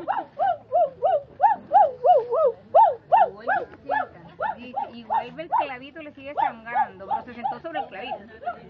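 A small dog cries in rapid repeated high whimpers and yelps, close and loud, a continuous string of pitched squeals with no pauses.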